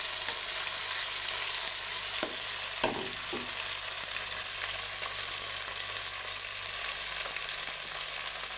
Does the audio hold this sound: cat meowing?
no